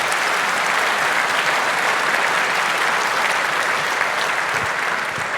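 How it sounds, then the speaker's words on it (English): Loud, continuous applause rolls through a packed hall at the 38C3 congress after a talk on liberating Wi-Fi on the ESP32, the clapping dense and unbroken throughout. "another round of applause"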